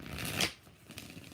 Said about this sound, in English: We're going to do 3 shuffles on the Alice in Wonderland